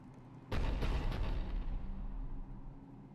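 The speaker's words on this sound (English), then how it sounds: "Looks like Cerberus got that cannon operational, Commander." A Cerberus cannon firing in the video game Mass Effect 3 on Tuchanka, a single heavy booming blast that starts abruptly and rolls off into a long, dense rumble lasting a couple of seconds.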